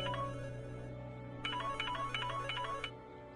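A telephone ringtone plays in a short electronic melodic burst, pauses, then repeats in a rapid warbling pattern, clear and moderately loud over a low steady hum.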